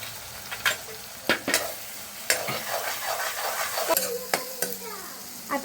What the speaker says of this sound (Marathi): आला लसूण पेस्ट टाकूया जराशी.